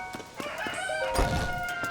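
A video game chicken in Hateno Village, Zelda, clucks and crows in short bursts over a busy, synthetic background, fairly close and steady for two seconds.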